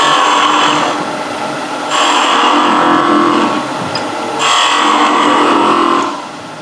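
Skew chisel shearing waste wood from a spinning workpiece on a woodturning lathe, a steady broadband rasping hiss that swells and eases in long passes, close and fairly loud with no talk.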